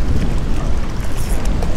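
Wind blows across a small fishing boat on a rough, gusty day, producing a loud, continuous rumbling buffet against the microphone with no speech.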